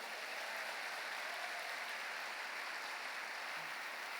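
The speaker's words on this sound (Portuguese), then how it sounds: "Quem crê, dê uma salva de palmas a Ele." A church congregation applauds together, a dense, steady wash of clapping that fills the space at moderate level without pause and with no voices above it.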